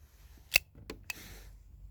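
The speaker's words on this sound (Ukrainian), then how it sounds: "Досилаю патронник." Slide of a SUR TT 33 pistol racked to chamber a round, giving two or three sharp metallic clacks within about half a second, close and crisp against a quiet background.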